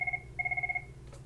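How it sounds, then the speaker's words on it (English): A telephone rings in two short trilling bursts of steady electronic tone, heard indoors during an online class assessment session, with a low background hum and no talk. "My phone's ringing"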